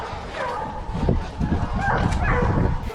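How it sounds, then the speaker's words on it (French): Hunting dogs pursuing whole herds of wild animals during a hunt with hounds, their excited barks and yips overlapping in a dense, continuous chorus amid general outdoor commotion, with faint voices mixed in. "surtout les chiens qui poursuivent des hardes entières d'animaux sauvages"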